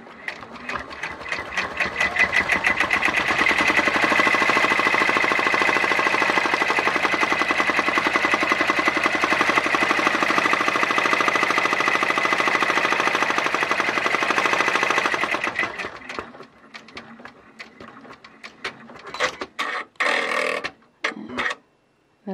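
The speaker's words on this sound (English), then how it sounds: "And I let the machine do its job. This is what it looks like on my embroidery machine." An embroidery machine stitches a name onto a hat, running loud and steady with a rapid needle rhythm for about fifteen seconds before stopping, followed by a few scattered clicks and knocks.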